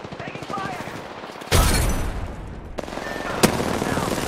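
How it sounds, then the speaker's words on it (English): Gunfire rattles in the game Apex Legends, with bursts of shots and sharp cracks over a busy background of game noise, fairly quiet in the mix. "Shots fired at me."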